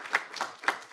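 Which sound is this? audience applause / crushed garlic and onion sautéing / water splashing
audience applause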